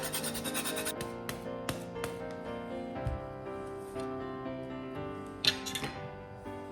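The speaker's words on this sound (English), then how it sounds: "Then we're gonna add the zest of half a lemon." Lemon being zested on a grater, a series of soft close rasping scrapes in irregular strokes, quiet, with faint kitchen clatter and a low background tone.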